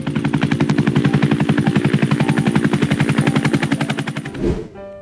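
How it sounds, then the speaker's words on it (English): An ultralight helicopter flies close by with a loud, rapid, steady rotor chop and engine drone that swells slightly, then cuts off abruptly near the end. "U is for Ultralight Helicopter."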